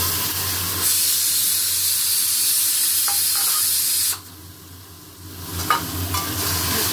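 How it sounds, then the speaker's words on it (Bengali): Masala spices sizzle loudly in hot oil over browned onions, a steady hissing fry that drops off briefly and then resumes as the pan is stirred. "মশলাটা এবার ভালোভাবে কষবো।"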